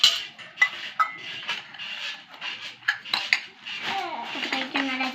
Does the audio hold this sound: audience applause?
no